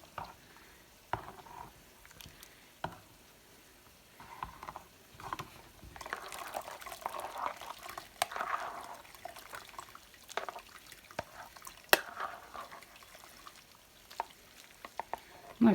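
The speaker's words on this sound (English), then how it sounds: "I'm going to have to stir this around here so the whey will go out the bottom." Cheese curds are stirred in a pot so the whey drains out the bottom, giving irregular wet scraping, sloshing and clunks at close range, with no talking.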